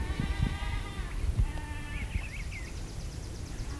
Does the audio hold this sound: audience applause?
no